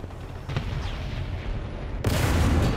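An enemy tank cannon in War Thunder booms twice over a constant battlefield rumble, the first shot softer and the second a louder, nearer blast.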